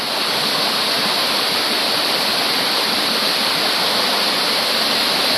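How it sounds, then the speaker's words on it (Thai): Than To waterfall in Yala, Thailand, pours in a steady, dense roar of rushing water, loud and continuous throughout with no voices. "น้ำตกทานโต"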